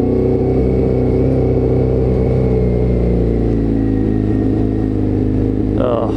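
A motorcycle ridden through the town of Tralee gives a loud, close, steady engine rumble with rich harmonics, holding an even pace without pauses.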